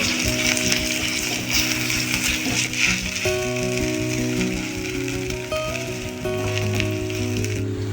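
Cumin seeds, green chillies and asafoetida sizzle in hot oil in a pan, a steady, close, crackling frying hiss that runs throughout, with a faint tonal hum underneath and no talking.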